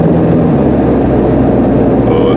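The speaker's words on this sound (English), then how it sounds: "I'm going to have the window cracked a bit so we get some decent engine noise." Subaru Legacy 2.5 driving on a hillclimb road to West Head Lookout in NSW, Australia, heard from inside with a window cracked: a loud, continuous engine drone with road noise and no breaks.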